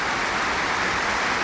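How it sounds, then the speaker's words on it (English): Steady rain falls continuously, a dense even hiss with no pauses, loud and close, with no voices over it. "How about this rain? Beautiful."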